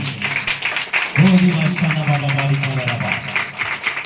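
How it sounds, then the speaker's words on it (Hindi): Church congregation clapping loudly during a Hindi sermon, a sustained wash of applause with a voice rising over it and continuing throughout. "ताली बजा जोर से परमेश्वर के लिए।"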